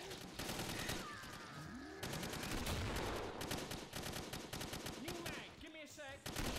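G36C rifle fired in the video game Killing Floor, with dense rapid automatic bursts that are loud and continuous, a short pause, a brief break near the end, and other game effects mixed in.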